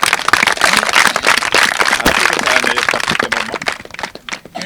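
Applause from an audience at a gathering, a dense, continuous wash of clapping that stays loud and then fades slightly near the end, with no voices over it.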